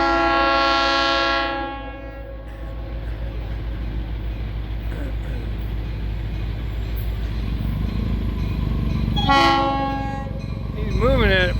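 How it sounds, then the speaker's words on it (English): An FECR freight train moving into a siding at County Road 206 in St. Augustine, Florida blasts its horn loudly, rumbles along steadily and sounds the horn again in short bursts near the end, with a voice speaking over it. "He's moving at a pretty good clip. There he goes, into the siding."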